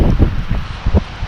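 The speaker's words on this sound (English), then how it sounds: "And it's freaking windy too. You guys can probably hear it." Strong gusting wind on a riverbank buffets the microphone in uneven low rumbling bursts, with a few sharper thumps and rustles, loud and close.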